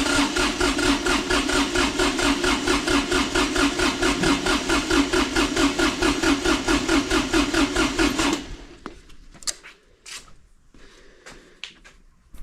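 Kubota D905 diesel engine turned over by the starter with its fuel shut off: a loud, fast, even rhythmic cranking churn for about eight seconds that then stops, followed by faint clicks and handling noises.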